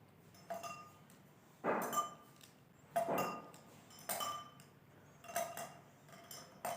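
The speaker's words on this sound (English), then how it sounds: "we have put 3 pens in this glass, 3 pens in this glass" Pens drop one after another into glasses in a quiet room, giving about six separate light clinks and taps spaced roughly a second apart.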